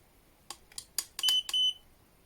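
A cheap no-name portable spot welder beeps: a few short, clipped chirps, then two longer electronic tones in quick succession, close and otherwise quiet.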